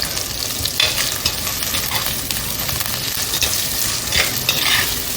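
Curry leaves and green chillies sizzle steadily while being sautéed for a mud-pot chicken gravy, with dense frying crackle and occasional stirring scrapes throughout, close and fairly loud, no voices.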